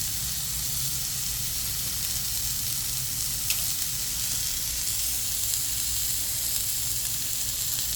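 A NY strip steak sizzles with a pat of butter on a Blackstone griddle, a steady, close, bright hiss that runs unbroken throughout with no talking.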